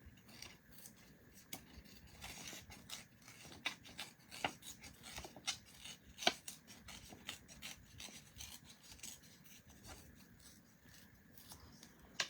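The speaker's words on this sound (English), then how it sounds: "I'm gonna go ahead and cut out this section." Scissors snip and rasp through cardstock, cutting out a section for a handmade card, a quiet close run of irregular clicks and scraping strokes with no talking.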